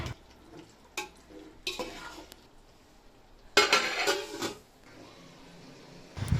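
Chicken and salt are stirred in a pot for biryani, with a spoon scraping and clanking against the metal in irregular bursts and a louder stretch of mixing in the middle, separated by quiet pauses.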